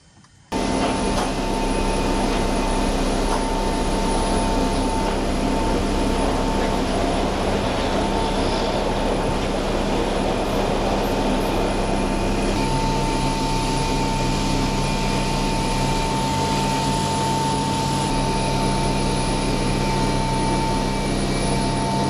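Steady, loud drone of a Ukrainian Antonov An-26 twin-turboprop airliner in a flight simulator, a continuous engine roar with fixed tonal hums running unbroken throughout with no talking.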